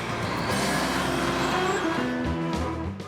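Engines rumble steadily at the Iowa 80 truck stop, the world's largest, as trucks and cars idle and move close by. The tone shifts near the end as a vehicle pulls past, and no one speaks.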